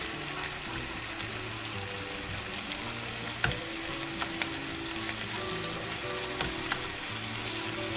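Ground beef sizzles steadily in a hot pan as a utensil breaks it into small pieces, with occasional sharp scrapes and clicks over the continuous frying hiss.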